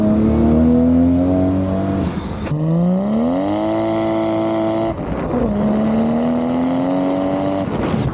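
Japanese-market car engine revving loud and close, three sustained rising pulls separated by brief lift-offs, the note climbing steadily in pitch through each rev with no talk over it.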